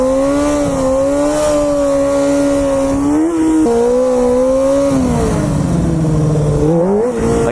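A Honda F4i sport motorcycle engine revs steadily during a circle wheelie, a loud, close, sustained whine whose pitch holds, dips and rises again as the throttle shifts.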